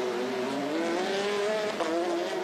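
Formula Renault race cars sweeping through a 180-degree hairpin at a 2005 race in Salvador, engines droning steadily with rising and falling pitch as they pass, loud and continuous with no talk.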